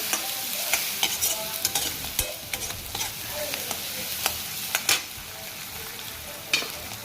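Masala sautés in a pan as a spoon stirs it, with a steady frying sizzle and repeated sharp scrapes and taps against the pan, close and clear, for a village-style aloo vegetable dish.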